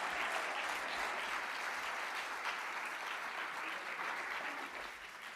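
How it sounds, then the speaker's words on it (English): A loud, sustained round of applause fills a conference hall at a sustainable tourism conference in Grenada, dense steady clapping from a large audience that eases slightly near the end. "they deserve another really loud round of applause"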